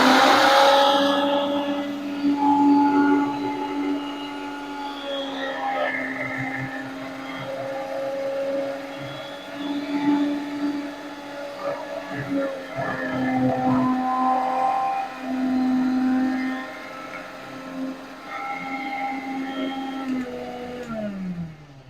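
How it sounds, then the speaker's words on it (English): A kitchen blender running on high speed, whisking an egg for homemade mayonnaise, a loud steady motor whine with a droning hum held for about twenty seconds, the pitch sagging slightly as it winds down at the end. "So I'm going to run this blender on a high, okay, not medium, not low, high."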